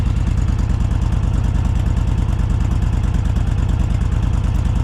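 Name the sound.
2021 Honda Fury motorcycle exhaust note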